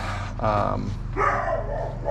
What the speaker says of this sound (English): oh, dog's barking